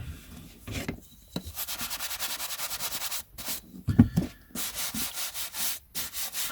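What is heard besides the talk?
shoe brush brushing off stacks of vintage paper items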